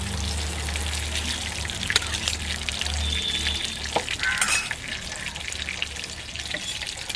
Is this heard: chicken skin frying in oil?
yes